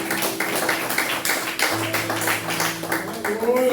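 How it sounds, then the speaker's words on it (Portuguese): Congregation clapping along at a church service, rhythmic hand claps in a steady beat over singing voices. "Louve ao Senhor com palmas bem alegres."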